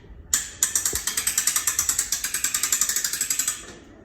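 The repaired gearbox on a gantry crane ratchets steadily while raising the load, a close, loud run of evenly spaced metallic clicks lasting about three seconds before stopping.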